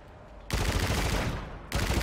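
Sub-machine gun gunfire in a video game, loud sustained bursts with a brief lull near the middle, dense and close, no voices.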